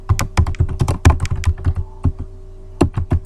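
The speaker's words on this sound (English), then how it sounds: "I type my title, press enter, then you're going to type your name" Close, steady typing on a computer keyboard, a quick run of distinct clacking keystrokes with a brief lull before a few more presses, loud and alone with no voices.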